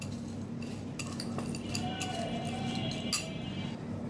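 Chanachur snack being mixed with lemon in a bowl, with light metallic clinks and scrapes of a spoon against the dish over a soft, steady room hum.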